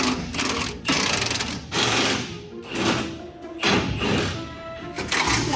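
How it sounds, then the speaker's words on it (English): Bolts being loosened on the bumpers of a 1969 Dodge Charger, heard as a run of rapid, buzzing power-tool bursts separated by brief pauses, loud and close throughout. "I'm gonna get all the bolts loose in the bumpers."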